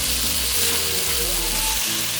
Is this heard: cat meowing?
no